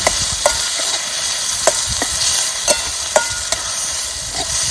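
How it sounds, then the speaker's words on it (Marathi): Masala spice paste stirred and fried in oil for a spicy fried-fish curry, a steady sizzle broken by sharp spoon clicks and scrapes against the pan at an irregular pace, close and fairly loud with no talking. "अजून थोडं घालते आता हा मसाला ह्याच्यात शिजवला नका नाही म्हणजे चांगलं तेल सुटलं जातं आणि मसाला बी चांगला शिजतो"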